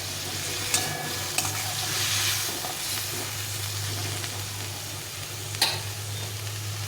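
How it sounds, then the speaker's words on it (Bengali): A watery spice paste made with coriander sizzles and is stirred in a little oil, heard as a steady close frying hiss with a low hum beneath and a few sharp utensil scrapes. "বেশ কিছুক্ষণ ধরে মশলাটাকে কষিয়ে নিতে হবে।"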